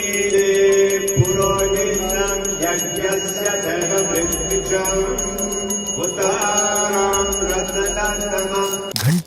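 A bell rings continuously during a Hindu havan ritual, its bright metallic tone struck over and over in a steady stream, loud and close, with a low murmur of activity beneath it.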